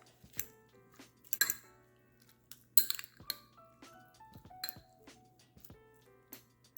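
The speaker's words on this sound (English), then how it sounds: "Give this a mix." Salsa is mixed with salt and pepper in a bowl, sounding as a series of sharp, sparse clinks and taps of a utensil against the bowl in a quiet room, with no talk.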